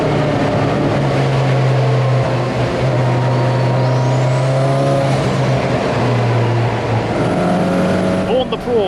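Classic Thunder racing saloon cars lapping Silverstone, among them a turbocharged Audi A3, make a loud, continuous engine drone with a rising whine as cars pass, while a race commentator talks throughout.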